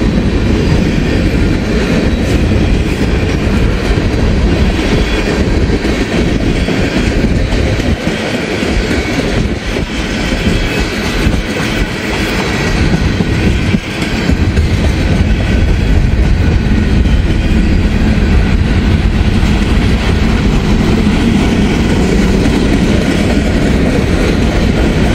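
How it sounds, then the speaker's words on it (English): A Norfolk Southern freight train rolls past close by, a loud continuous roar of wheels and rail with steady clickety-clack and occasional squeal, filling the whole span without any voices. "It's not often to get many locomotive wonders with Norfolk Southern"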